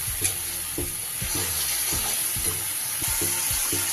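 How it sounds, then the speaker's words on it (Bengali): Tomato paste masala is cooked down in a pan with a constant hiss of frying and a rhythmic series of spatula scrapes and knocks, close by and steady throughout. "ভালো করে কষিয়ে নেব।"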